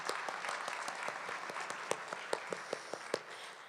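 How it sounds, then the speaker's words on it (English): An audience applauds an instructor, Dr. Song, at a Weatherford College gathering: steady, fairly faint clapping from many hands, with a few sharper individual claps standing out toward the end. "So let's give us a round of applause for Miss"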